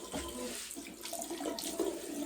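Water rushing steadily out of a household plumbing line, drained before a water filter is changed; a faint, continuous splashing flow with no voices.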